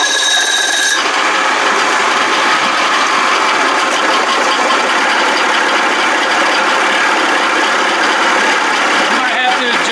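A 1979 Evinrude 55 hp outboard motor fires up at fast idle with a brief starter whir, then runs as a loud, steady, buzzy drone at close range.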